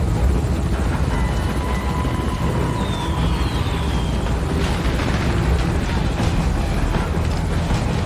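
Helicopter in the video game Metal Gear Solid V: Ground Zeroes, a continuous loud rotor rumble with rough booming bursts layered over it.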